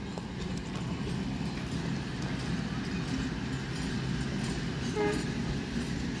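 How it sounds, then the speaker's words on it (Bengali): A local train runs along the Eastern Railway line near Bandel Junction, with two trains passing in opposite directions; a steady, close rumble with rhythmic wheel clatter fills the whole stretch. "দুটি ট্রেন পরস্পর বিপরীত অভিমুখে যাচ্ছে।"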